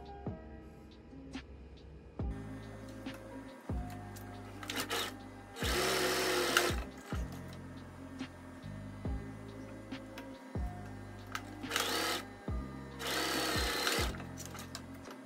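A sewing machine stitches the front and back pieces of a basic blouse together at the shoulders and sides, running in repeated bursts of rapid mechanical whirring separated by short pauses, with a few louder rustles of fabric handling between runs.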